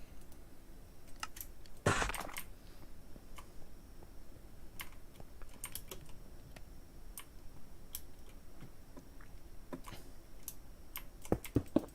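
Keys clack on a computer keyboard with a faulty D key. The taps are light and irregular, and one louder clatter breaks in near the start. The room is otherwise quiet.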